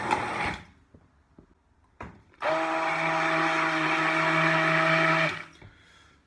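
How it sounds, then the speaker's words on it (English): An immersion blender with two blades whirs steadily through black bean soup in a kitchen, a loud continuous hum of about three seconds that starts abruptly and cuts off, with quieter handling sounds before and after. "another one of my favorite tools in the kitchen, an immersion blender"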